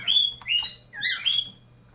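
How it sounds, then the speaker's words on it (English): A small bird chirps indoors, several bright twittering calls in quick succession, near and clear over a faint low hum, with no talking. "shut up, bird"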